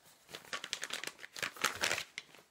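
Paper crinkles and rustles in a busy run of close, irregular scrapes and crackles as art trading cards are slid back into a paper envelope.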